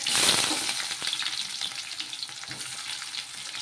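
Onions hitting hot oil with cumin and mustard seeds, a loud sizzle that swells at the start and then settles into a steady, dense frying crackle with light stirring, close up and with no voices.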